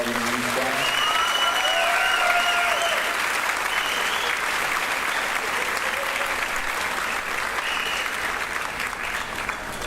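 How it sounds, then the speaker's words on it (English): A school band's spring concert audience gives a loud, sustained round of applause for the band's trip organizer, dense steady clapping with crowd murmur and some voices mixed in. "give DJ a quick round of applause for everything he's done"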